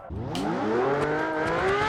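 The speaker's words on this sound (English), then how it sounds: "Let's hear that supercharged V12 scream down the highway." A supercharged V12 supercar engine in a video game screams as it accelerates down a highway, its rising, harmonic-rich whine climbing steadily in pitch, loud and close with nobody talking.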